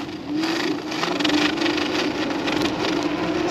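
Mukuta 10 Plus electric scooter accelerating in first speed, dual motor mode, a steady loud motor whine with a sustained tonal hum and rushing wind noise that holds throughout, no voices.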